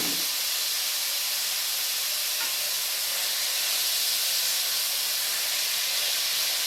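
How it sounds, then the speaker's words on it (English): Ground seasoning sautéing in hot oil in a pan, a steady loud bright sizzle and hiss that holds evenly throughout, no voices. "we're just sauteing all of that around just to get all of that flavor from all of that seasoning"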